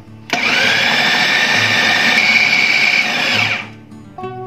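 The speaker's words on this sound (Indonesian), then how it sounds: "Dan ini akan saya haluskan lagi." A kitchen blender grinds a seasoned chicken nugget mixture in one loud, steady whirring run lasting a few seconds before spinning down, close and alone.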